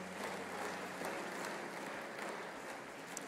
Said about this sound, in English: we give Brother Hammond and Brother McCool just a great round of applause?